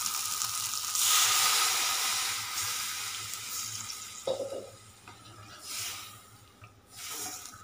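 Loud hissing sizzle as water hits frying chickpea masala in a hot pan, then quieter bubbling and stirring that flares up again in bursts.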